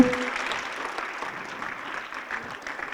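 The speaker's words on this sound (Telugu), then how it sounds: "Give him a big clap to Subhash Patriji." Applause for Subhash Patriji from students at a school meditation program, a fairly soft, steady patter of clapping that gradually eases in level.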